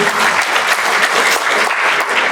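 Dense, steady applause from an audience at a Tanzanian diaspora annual general meeting, loud and continuous throughout with no breaks.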